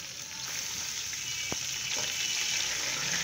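Ginger garlic paste frying in a pan for Delhi murgh pulao, a steady close sizzle with a brief clink partway through.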